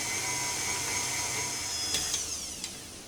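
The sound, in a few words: electric mixer whisking eggs and caster sugar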